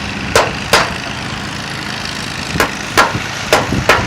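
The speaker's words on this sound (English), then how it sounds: "You hit right on that screwdriver and driving it through." A hammer strikes a screwdriver, driving it through a mobile home's metal roof, in sharp metallic taps: a pair of quick hits, a pause, then a handful more, close and distinct over steady background noise.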